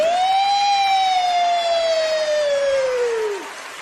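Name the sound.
voice imitating a police siren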